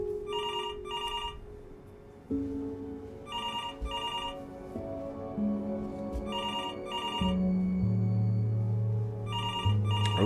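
A telephone rings in repeated double bursts inside the video game Before Your Eyes, bright and clear over a low musical score that swells and shifts underneath.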